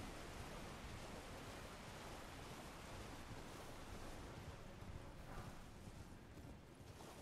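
Steady roar of a waterfall in Elden Ring's Deeproot Depths, a dense, unbroken rush of falling water that holds loud and even throughout, with no voices over it.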